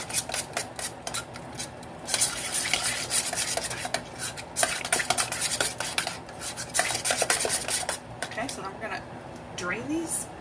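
Macaroni and cheese sauce stirred in a pot, a continuous scraping and rubbing of a utensil against the pot that keeps going for the whole stretch, close and steady.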